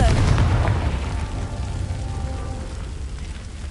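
A fiery Confringo spell explosion from Hogwarts Legacy opens with a loud deep boom that fades into a long rumbling, crackling tail like heavy rain.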